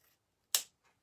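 A single quick snip of scissors cutting ribbon tails for a wreath bow, one sharp close click in near silence with a faint rustle just after.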